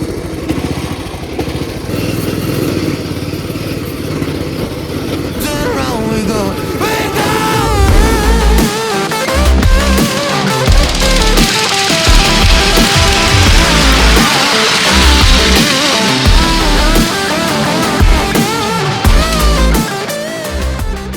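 Small modified racing lawn mower engine revving and bogging while the mower drifts, a loud continuous buzzing drone with fluctuating pitch and thumps from bumps, close throughout.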